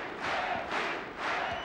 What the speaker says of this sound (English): Crowd trying to get behind the German champion